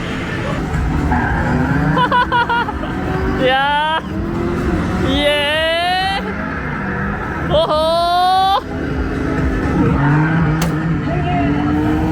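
Arcade racing game at an arcade in the Philippines, with cars driving and skidding: a steady engine roar broken by several loud wavering tire squeals, under lively talk and background arcade noise.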